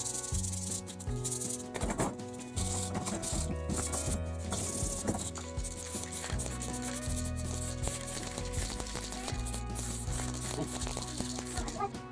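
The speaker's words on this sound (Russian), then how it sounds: "С помощью наждачки убираю весь хром и крашу в подходящий цвет." Sandpaper rubbing chrome plating off a metal part, producing steady scraping strokes that run the whole time beneath loud, tonal background music.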